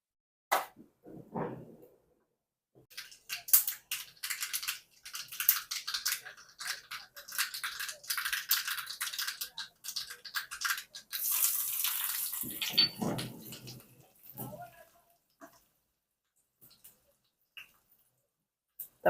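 Mustard seeds and chilies sizzle and crackle in hot oil for a tempering, a dense hiss of spitting pops running steadily with brief pauses near the end.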